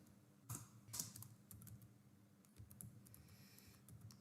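Keys tapped on a computer keyboard while coding a binary search program in Java, a few scattered clicks and light bursts of typing, quiet and close.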